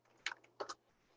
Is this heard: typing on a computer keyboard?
yes